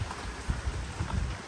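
Rain falls outdoors at the tail of Cyclone Gabrielle, a steady broadband hiss with soft low thuds of drops hitting a surface, fairly close and continuous throughout.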